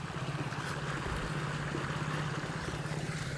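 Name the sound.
irrigation water flowing into a chikoo orchard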